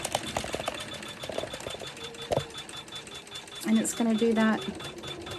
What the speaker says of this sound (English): you can see it stitching that first blossom right now